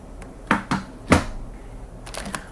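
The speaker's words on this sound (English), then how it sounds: "And here's the click compared to the Adesso," Button clicks on an Adesso T40 trackball keyboard come as a few soft, close, muted taps, with three distinct clicks followed by fainter ones after a short pause.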